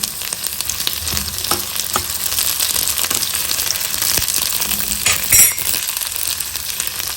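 Dry red chili sizzling and frying in a hot pan for a spicy chutney, a steady crackling hiss throughout with occasional stirring clinks and pops, no voices.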